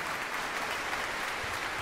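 Audience applause fills a concert hall after a choral and orchestral performance, a steady, dense wash of many hands clapping at once, loud and continuous throughout with no voices standing out.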